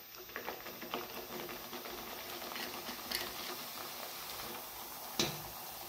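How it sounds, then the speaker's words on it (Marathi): Masala puri sizzles in hot oil, a steady crackling and patter of frying with a few sharper pops. "आपण ही तेलामध्ये पुरी टाकायला"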